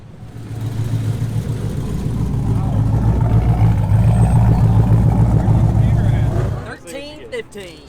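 A hot rod's engine drones steadily after a drag strip run on the Hot Rod Power Tour, a loud, low, continuous rumble that cuts off near the end and is followed by brief noises.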